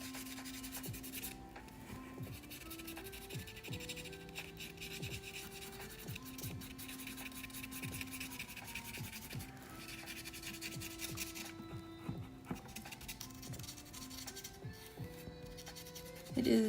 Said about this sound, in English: hear the dulcet sounds of marker scritches